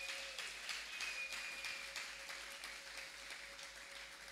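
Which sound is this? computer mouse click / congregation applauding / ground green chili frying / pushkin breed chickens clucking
congregation applauding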